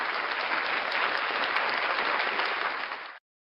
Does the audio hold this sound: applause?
yes